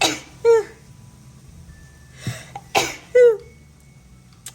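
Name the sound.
sneeze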